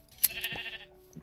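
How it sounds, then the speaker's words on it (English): A single short sheep bleat in the Minecraft modpack SevTech Ages, fairly faint against quiet game ambience, followed by a soft click. "to shear any sheep we cross on our way, like this one."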